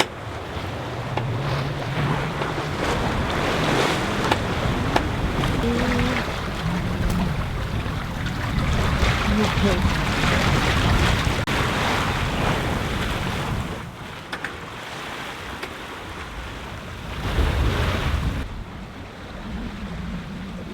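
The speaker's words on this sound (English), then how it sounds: "gusting 24 to 28 knots. We have 2 reefs in on a beam, and that's actually quite an okay sail." Strong wind gusting 24 to 28 knots roars across a sailing yacht on a beam reach with two reefs in, waves rushing and slapping against the hull in a steady loud wash with heavier surges and buffeting wind noise on the microphone.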